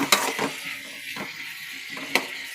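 Five tomatoes frying over onions in a pan for chutney, a soft continuous sizzle close up, broken by a few sharp utensil taps and brief stirring scrapes.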